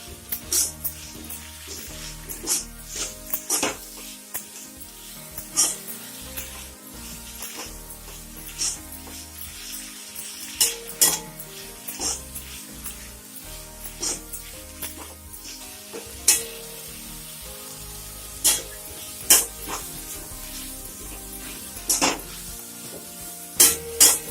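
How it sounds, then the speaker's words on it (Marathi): Fenugreek (methi) leaves stir-fried in hot oil for a Maharashtrian methi bhaji, giving a steady close sizzle with repeated sharp scrapes and clicks of a spatula against the pan, no voices. "तेलामध्ये व्यवस्थित असं परतून घ्यायचं।"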